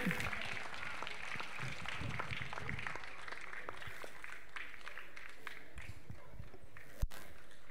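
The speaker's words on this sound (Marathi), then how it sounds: "जोरदार टाळ्या वाजवायच्या" A crowd applauds football players receiving medals at a monsoon football tournament prize ceremony, with steady, dense clapping throughout and voices mixed in, then a brief sharp knock near the end.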